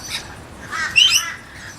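Parrots at a bird sanctuary give a couple of harsh, close squawks in quick succession over faint background chirping, with no talking.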